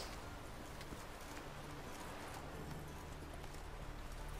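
A horse's hooves clip-clop in The Witcher 3: Wild Hunt, a quiet, steady run of hoofbeats over several seconds, soft and somewhat distant under a low background wash.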